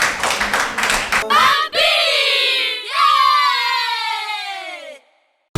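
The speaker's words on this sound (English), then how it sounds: "Please clap for them" Audience clapping at a children's quiz show opens loudly for about a second, then gives way to sustained shouting and cheering from young voices that fades away near the end.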